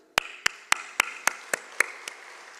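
Clapping at a business luncheon during the Hong Kong Chief Executive's ASEAN visit, eight distinct sharp claps in an even, steady rhythm, close and clear, slowing and fading slightly toward the end.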